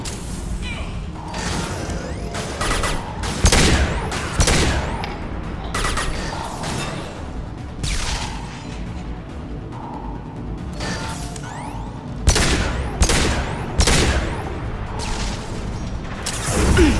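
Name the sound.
rifle gunfire in Mass Effect 2 video game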